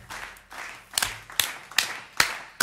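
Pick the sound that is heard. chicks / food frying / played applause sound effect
played applause sound effect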